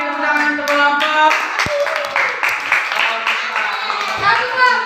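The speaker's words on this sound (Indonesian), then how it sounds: "tepuk tangan untuk kelompok" Pupils in a classroom clap for a group of classmates, a rapid, close run of many hands with children's and a teacher's voices talking over it.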